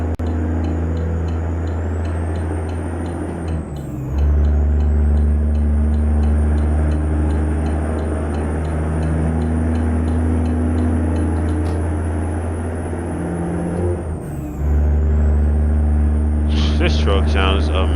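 Heavy truck engine in American Truck Simulator droning loud and steady with a deep low rumble, briefly dipping at two gear shifts, and a short hiss of air brakes near the end.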